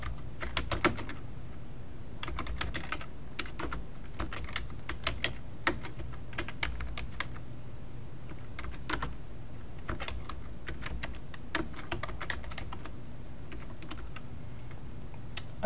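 Keys clatter on a computer keyboard as code is typed, quick irregular bursts of sharp clicks with short pauses, close and fairly quiet, no voices.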